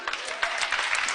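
An audience at a French-language Christian sermon gives a brief burst of applause, with uneven clapping swelling and fading over about a second.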